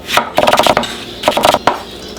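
A knife chops onions and carrots on a cutting board in quick bursts of crisp taps, two clusters of rapid strokes close up and loud, with a final single cut.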